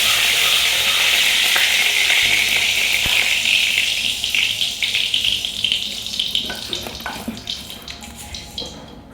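Mustard seeds thrown into hot oil in a home kitchen: a loud, dense, hissing sizzle that slowly thins, giving way to scattered sharp crackles and pops near the end.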